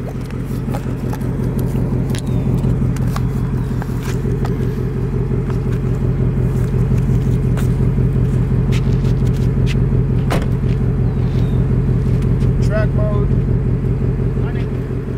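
A loud, steady 2024 Ford Mustang GT engine idles with its exhaust in track mode, a deep, throbbing rumble throughout, close by, with brief faint clicks and noises over it.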